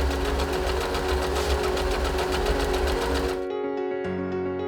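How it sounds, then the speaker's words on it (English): An Usha Janome Fashion Stitch automatic zigzag sewing machine running steadily with a fast, even mechanical whir and rapid needle chatter, close and loud. It then slows and stops, leaving a lower hum. "The Usha Fashion Stitch is an intelligently designed, lightweight, automatic zigzag sewing machine with a built-in light with on-off button."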